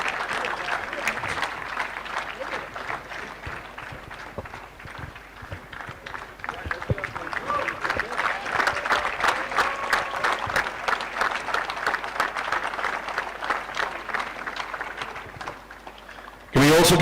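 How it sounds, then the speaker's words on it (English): An audience applauds at the trophy ceremony of the L&T Mumbai Open WTA 125 tennis tournament. Rapid clapping carries on for the whole stretch, swelling at times, with voices faintly underneath. "Big round of applause, ladies and gentlemen."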